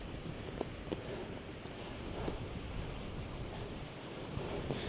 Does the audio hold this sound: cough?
no